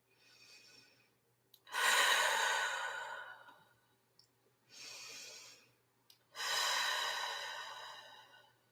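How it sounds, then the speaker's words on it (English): Slow, deep breathing in a quiet room during a biofield tuning session, with three long airy breaths, each a drawn-in inhale and a fuller exhale, close and fairly soft with pauses between them. "Let's take some deep breaths before we start."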